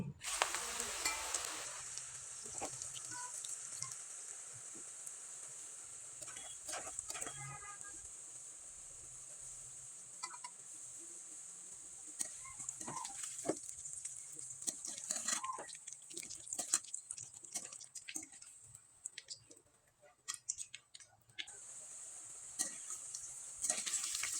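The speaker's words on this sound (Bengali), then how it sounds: "একইভাবে আমি সবগুলো পিঠা ভেজে আপনাদের দেখিয়ে দিচ্ছি" Pitha cakes frying in oil make a faint, steady sizzle, with scattered small clinks and pops over roughly twenty seconds and no talking.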